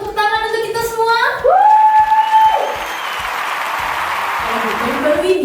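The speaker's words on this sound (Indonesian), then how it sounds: "Boleh berikan tepuk tangan untuk kita semua?" Audience applause at a morning MC presentation in Surabaya, starting just after a voice's rising final words and continuing as steady, dense clapping that fills the rest of the moment before easing slightly.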